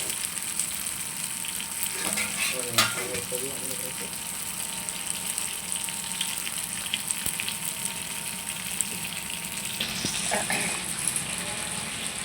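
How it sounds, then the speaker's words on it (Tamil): A pot of fish curry boils steadily on the stove, giving a continuous close bubbling and sizzling hiss that runs through the whole stretch, with a few faint clinks. "அழகாக எல்லா பக்கமும் கொதிக்கு கொதிக்குது பாருங்கள்"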